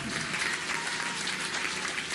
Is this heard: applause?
yes